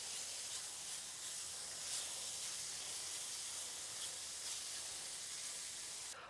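Chopped bacon browning on a recteq Matador flat-top griddle gives off a steady, even sizzle and hiss that holds at one level throughout, with no talking.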